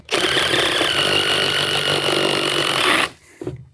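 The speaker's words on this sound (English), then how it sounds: "As you start drilling your hole, if you don't like the way it's going, you can kind of move the paddle bit a little bit" A paddle bit in a power drill boring a hole through a wooden deck board while notching for a gutter, giving a loud, close, continuous grinding whine for about three seconds before it stops abruptly, followed by a faint brief knock.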